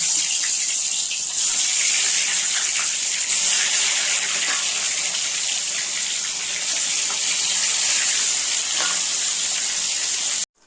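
Catla fish pieces frying in hot mustard oil, a loud continuous hiss and crackle of sizzling that holds steady before cutting off abruptly at the end.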